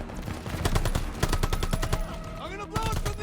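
Rapid automatic gunfire in Call of Duty Vanguard, a dense burst of close, repeated shots with a brief pause and further firing, layered over background game sounds and a voice.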